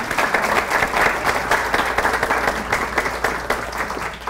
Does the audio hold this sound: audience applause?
yes